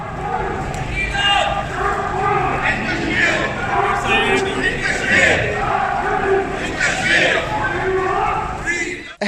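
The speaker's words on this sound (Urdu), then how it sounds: "مظاہرین نے کشمیریوں کے حق اور بھارتی غاصب فوج کے خلاف شدید نعرے بازی کی۔" A protest crowd at a Kashmir rally in Glasgow chants slogans, a dense, loud, continuous mass of voices rising and falling in rhythm throughout.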